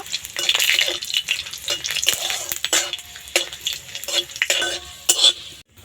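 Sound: garlic and black cumin seeds frying in oil

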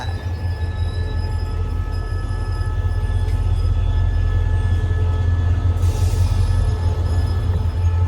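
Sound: SRT diesel locomotive train moving at Bang Sue depot

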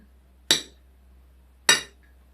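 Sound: knife clinking on a plate while cutting eggs into strips

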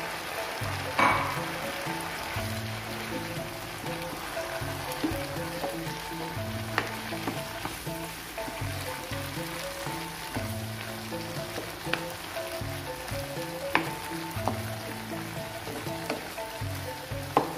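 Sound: stir-frying bean sprouts with scrambled egg in a pan

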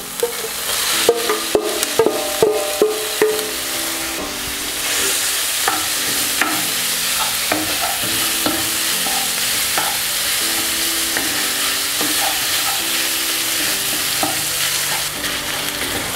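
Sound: ground beef frying and being stirred in a pan

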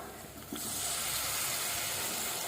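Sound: water poured into frying brinjal curry masala, sizzling

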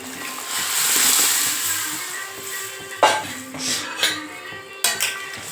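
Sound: pouring cooked lentils into pot

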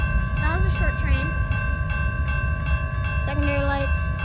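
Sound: short train passing on the CN shortline

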